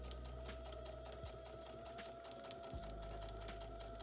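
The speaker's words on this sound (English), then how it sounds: "sew a straight stitch with the 3/8 inch seam allowance" A sewing machine runs a straight stitch along a trouser seam, a continuous close motor whir with rapid needle ticking, quiet and steady with no talking.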